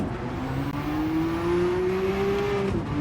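A Porsche 962C race car in a racing video game, running on the no-chicane variant of Monza, gives a steady engine drone whose pitch climbs slowly as it accelerates, then briefly dips near the end, close and alone.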